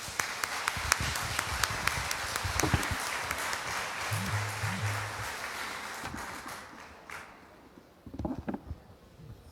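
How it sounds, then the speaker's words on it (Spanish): An audience at a Catholic congress in San Salvador applauds loudly and steadily, then the clapping thins and fades out toward the end, with a few voices and rustles as it dies down. "Así que le damos un fuerte aplauso."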